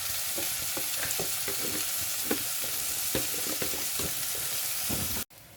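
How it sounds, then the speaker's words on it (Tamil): Tomatoes sautéing in a hot pan for a Brussels sprouts curry, a loud continuous sizzle and crackle broken by repeated scraping stirs, cutting off abruptly at the end. "இப்போ பாருங்க தக்காளி பழம் நல்லா வதங்கி வந்துட்டுது"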